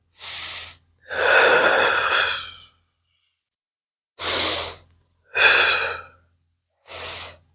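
Close, heavy breaths during a beginner exercise workout: five distinct breaths alternating short inhales and longer, louder exhales, with silent pauses between them.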